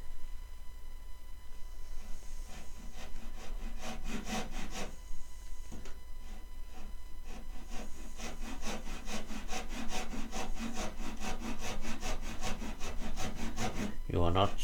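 A hand saw cuts through wood for a trebuchet build in a series of close rhythmic rasping strokes, with pauses between bursts and steady faster strokes toward the end.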